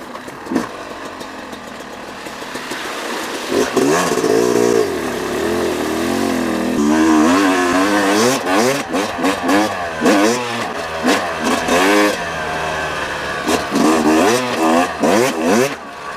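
A 2018 Yamaha YZ250X two-stroke dirt bike on a trail ride, engine idling low at first, then revving and accelerating in repeated rising and falling bursts, loud and close.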